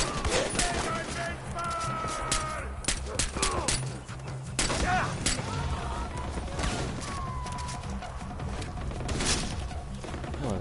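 Gunfire during a fight in the video game Far Cry 4, with bursts of shots and impacts mixed into busy game sounds while people talk over it throughout.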